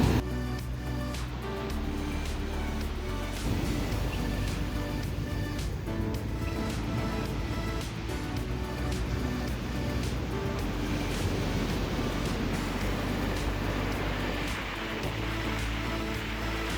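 Big, heavy surf pounds a black-sand surfing beach in Tahiti, a loud, steady roar of breaking waves with gusty wind buffeting the microphone throughout.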